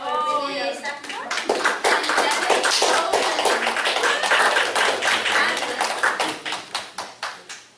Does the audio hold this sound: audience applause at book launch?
yes